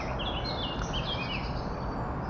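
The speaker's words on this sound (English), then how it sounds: "The bird sounds beautiful." Birdsong in the woods at dawn during overnight camping, with faint, thin chirps and warbling phrases drifting above a steady broad hiss of background noise, distant and soft.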